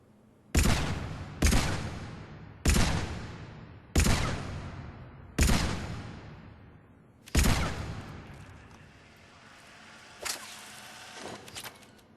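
Six loud, evenly spaced pistol shots from the Carnifex in Mass Effect 3 target practice, each with a long ringing decay, followed by softer distant impact noises.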